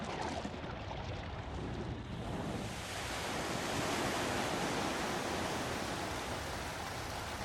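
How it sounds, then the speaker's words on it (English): Water drains in Paper Mario: The Thousand-Year Door after a switch is hit, heard as a steady rushing, surf-like wash that swells slightly and continues without a break, with no talk. "Hitting that switch causes the water to drain."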